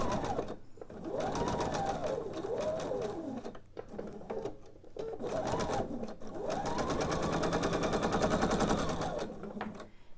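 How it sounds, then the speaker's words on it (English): A sewing machine chain-pieces quilt pieces, running in long steady bursts of rapid stitching with brief pauses between seams, close and loud with no talking. "just continue chain piecing all of my pieces together until I have all of my rows"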